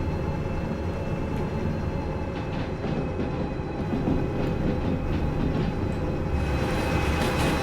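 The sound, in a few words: train and caboose moving on rails, from video game Derail Valley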